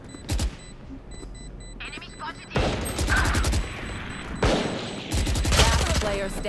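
Rapid bursts of Valorant gunfire rattle in close, sharp volleys separated by brief lulls, with game sounds and faint voices between the shots.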